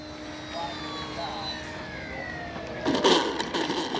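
An FMS Skylane 182 RC model airplane drones overhead with a thin, whining motor tone that gradually shifts in pitch, fairly faint and distant, before a louder burst of noise near the end.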